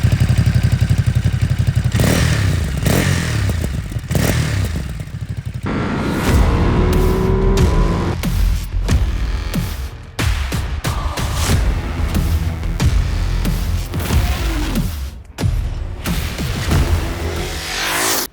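A Ducati Monster SP motorcycle with a Termignoni exhaust being ridden, its engine loud and close with rising and falling revs, gear changes and brief throttle cuts, plus some clatter and wind over the engine sound.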